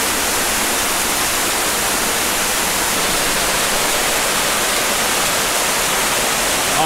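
Steady, dense roar of falling water, constant and full throughout with no breaks or voices.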